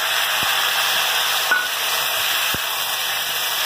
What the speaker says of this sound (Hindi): इसको थोड़ा सा ब्राउन होने तक भूनेंगे